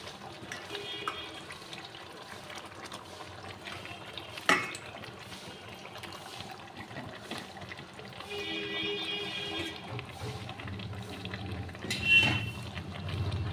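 Mutton pieces being stirred and braised in a pan for a rich goat curry, with a steady wet sizzle and bubbling, a sharp utensil clink near the middle and another clatter toward the end, no voices.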